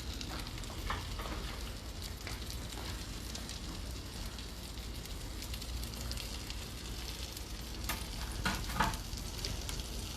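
White mushrooms fry in a pan with a soft, steady sizzle and crackle that continues for the whole stretch, with occasional louder spits and no talking.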